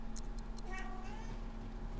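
A cat in The Sims 3 video game meows several times in quick succession, short high calls followed by a longer drawn-out meow over a low steady game hum.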